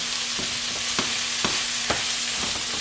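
A spoon stirs a ground beef mixture for taco bowls in a skillet, giving steady scraping strokes about twice a second over a continuous sizzle.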